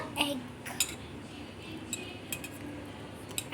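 A utensil stirs eggs in a bowl for a four-egg omelette, giving faint, scattered clinks and light taps against the dish over a quiet, steady room background.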